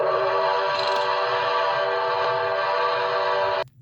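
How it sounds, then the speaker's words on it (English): A loud, steady steam locomotive whistle on the Sumpter Valley railway blows one long sustained chord for a few seconds, then cuts off abruptly. "as he stopped, he heard a loud whistle"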